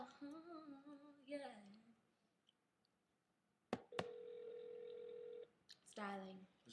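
A telephone line dials out: a couple of sharp clicks, then a steady electronic tone holding for about a second and a half, with people chatting casually around it on a home livestream.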